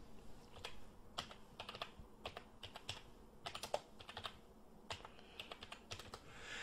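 Typing on a computer keyboard, with irregular bursts of clicky keystrokes at close range and no voice over them.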